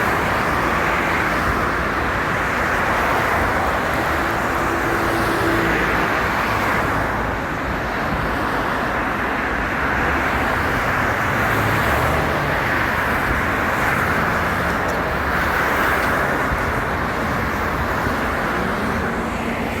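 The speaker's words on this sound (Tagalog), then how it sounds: "Yan, nagsisimula na mag-traffic." Night city road traffic in Muscat, Oman, a constant broad roar of passing cars and engines that holds steady and loud throughout, with no voices.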